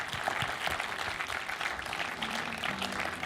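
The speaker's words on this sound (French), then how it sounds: "Nous pouvons l'applaudir." An audience at the closing ceremony of a short film festival applauds, a dense, steady wash of many hands clapping at moderate volume throughout, with no one speaking over it.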